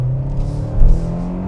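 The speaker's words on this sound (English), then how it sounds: "We hear that engine picking up." A 2026 Kia Sportage EX pulling hard in sport mode on the highway, its engine giving a smooth, steady drone from inside the cabin that swells briefly before leveling off.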